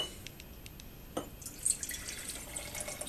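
Tap water poured into a container while building a chlorine battery, heard as sparse drips and a thin trickle, faint and close, with no talking.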